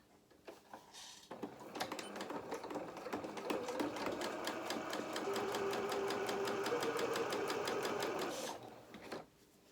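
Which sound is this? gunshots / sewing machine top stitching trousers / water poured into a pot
sewing machine top stitching trousers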